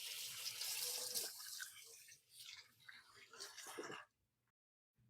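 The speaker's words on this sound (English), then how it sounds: "I'm going to give my hands a quick wash now." Water runs from a kitchen sink tap as hands are washed, a close, steady hiss and splash that shifts as the hands move through the stream, then stops abruptly when the tap is turned off.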